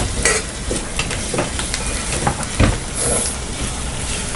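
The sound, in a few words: tomatoes added to frying onions in pan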